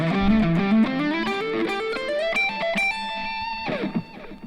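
A distorted electric guitar plays a quick pentatonic lick of fast ascending notes, ending on a held bend before fading into a brief scrape.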